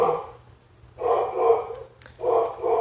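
A young dog barks in two loud, separate bursts of several yaps each, with a short pause between them and no talk.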